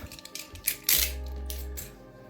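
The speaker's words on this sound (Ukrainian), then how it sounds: "легким рухом руки відкриваємо цей пакет" Plastic package of model cars is torn open, giving a short crinkly rustle with a few sharp crackles and a brief deeper thump, close and fairly quiet, with no talking.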